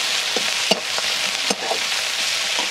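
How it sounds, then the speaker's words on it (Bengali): Whole cumin, small-chopped onion and dried red chilli fry in oil left from frying catla fish, a close bright sizzle with several spoon knocks and stirring scrapes in the pan. "ওই মাছের তেলেই আমি গোটা জিরে দিয়ে দিচ্ছি, আর কেটে রাখা ছোট ছোট করে পেঁয়াজ দিচ্ছি, শুকনো লঙ্কা দিয়ে দিয়েছি ফোড়ন হিসাবে।"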